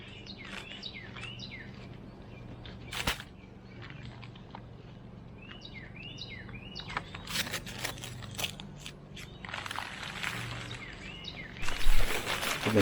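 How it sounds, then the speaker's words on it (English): Carolina wren song rings out in the background outdoors near a walkway-stone job, repeated bright chirping phrases over a low steady hum, with scattered clicks and scraping noises and a louder clatter near the end. "That's a Carolina wren in the background, the littlest bird with the biggest voice."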